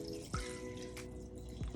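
Spring water poured into a container for a beet juice and sea moss preparation, a short, quiet trickle with a few drips and splashes.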